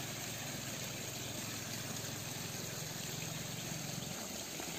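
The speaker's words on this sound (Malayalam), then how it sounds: "ഇപ്പോൾ ഏതായാലും നമുക്ക് മോട്ടർ അഴിച്ച് വെള്ളം ഒന്ന് അടിച്ച് ഫില്ലാക്കാം" A water pump motor fills a fish farming pond, giving a constant loud, close mechanical hum mixed with rushing, gushing water that holds steady throughout with no voices.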